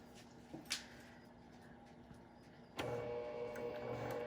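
A sewing machine starts stitching slowly forward after a near-silent stretch with a couple of small clicks, settling into a steady, quiet motor whir with no voices.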